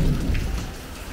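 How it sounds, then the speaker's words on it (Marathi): Heavy monsoon-style downpour pounding a yard and surfaces, a dense, loud, continuous hiss of rain with low rumbling undertones. "पाऊस पडतोय"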